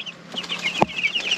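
Eleven-day-old chicks give rapid, high repeated peeps, close and fairly loud, with one sharper low cluck-like note partway through.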